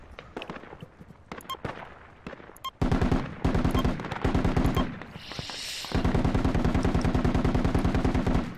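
Rapid automatic gunfire from the military shooter game Project Reality, with sparse distant shots at first, then loud close bursts of fast rhythmic shots, a brief pause, and another long sustained burst.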